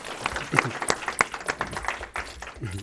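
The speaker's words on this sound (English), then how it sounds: "A round of applause" Brief, scattered applause from a small audience thanking a panel at the close of a discussion, with a few distinct claps standing out and voices chatting over the end.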